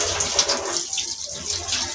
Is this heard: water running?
yes